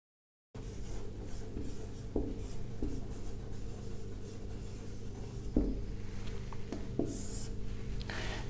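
A pen or marker scratches across a board during a thermodynamics lesson, producing continuous close scraping strokes with occasional taps for several seconds.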